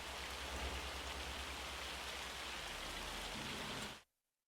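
Hail pours down in the Farming Simulator 25 video game as a loud, dense, steady hiss of pattering ice that fills the scene for about four seconds, then cuts off abruptly into silence, with no voices.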